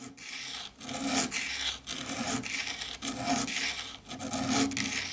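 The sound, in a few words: sanding the bottom of silver ring bezels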